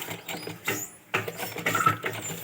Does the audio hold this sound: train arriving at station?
no